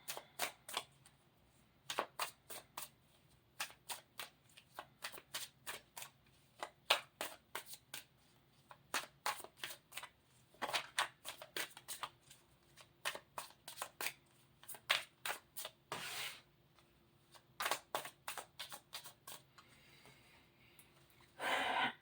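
Tarot cards being shuffled in steady bursts of crisp riffling and slapping, close and fairly quiet, with short pauses between rounds and no talk.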